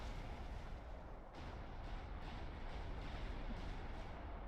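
Naval battleships trade fire in the Supreme Commander 2 strategy game, heard as a dense, continuous low rumble of distant booming cannon blasts, steady and faint throughout with no voices.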